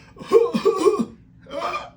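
A voice imitates the cough of whooping cough: a burst of short, harsh coughs followed by a drawn-in, whooping breath, close and fairly loud.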